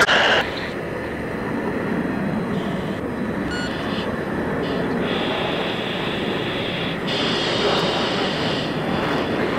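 Jet aircraft in the video game Battlefield 3 taxiing to take off from hardened bunkers at an airfield: a steady, broad engine rumble with a high whine layered on top, continuous and fairly loud, with no talk.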